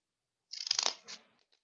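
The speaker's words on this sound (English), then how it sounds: "just take the corner part and cut it" Scissors snip through paper corners while cutting strips for a kids' New Year craft: a close, crisp burst of several quick cuts followed by a softer trailing snip, alone without talk.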